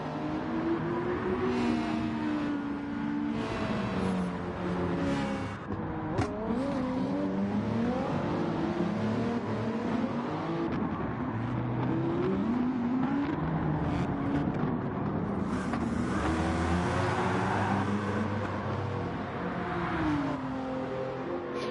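A Citroën Group 3 race car in a racing video game on the Sardegna circuit, its engine droning continuously and rising and falling in pitch through gear changes and revs, loud and steady with no talk.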